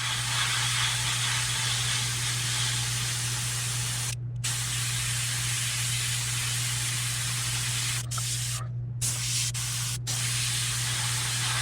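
Airbrush spraying paint onto a frog-style fishing lure, a steady close hiss that runs almost continuously and breaks off in a few brief pauses, over a low constant hum.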